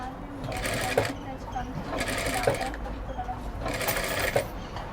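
A sewing machine runs steadily, stitching the thread piping onto a blouse, its motor whirring close and loud in repeated bursts with brief pauses between, while someone talks over the machine.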